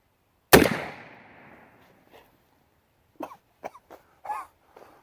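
A percussion revolver fires one loud, sharp shot that rings out and decays over about a second. A few faint, brief knocks and handling sounds follow, with no talking.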